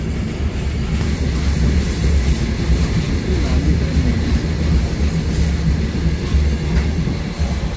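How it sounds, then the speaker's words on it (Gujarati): A long coal-laden freight train rumbles steadily past, with a continuous low roar and faint rhythmic wheel clatter throughout. "પાખાનો માલગાડી જો કેટલી લાંબી છે"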